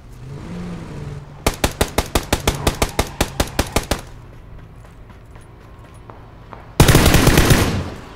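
Rapid automatic gunfire from a PUBG match: a steady burst of about a dozen evenly spaced shots, then quiet, then a dense noisy burst of fire near the end.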